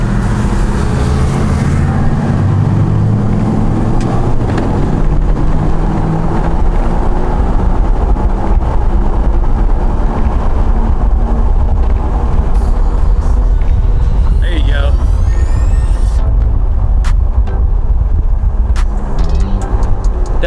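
A Ram truck cruising along a road, a loud continuous roar of engine and tire noise with low rumbling drone that holds steady throughout, heard from inside the cab.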